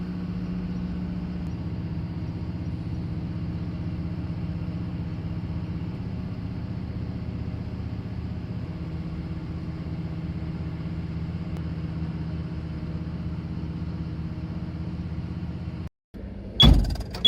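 A truck engine runs steadily at Cochin Port with a low, even rumble, then cuts out abruptly near the end before a brief louder burst of sound.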